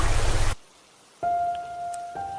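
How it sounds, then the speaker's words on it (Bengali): Heavy downpour in a Bengali horror cartoon, a dense burst of rain noise for about half a second that cuts to silence, followed by a steady electronic ringing tone like a phone. "আকাশে তখনও ঘন কালো মেঘের ছায়া আর মুষলধারে বৃষ্টি পড়ছে।"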